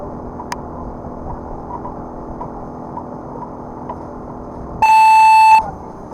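A steady electronic start tone sounds for about a second at a drone race event, rising sharply above a constant low crowd and mains hum background, then cutting off abruptly.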